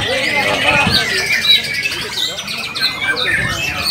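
Loud, varied birdsong from a white-rumped shama at a songbird competition, rapid whistles and chirps, mixed with crowd babble and other birds calling nearby.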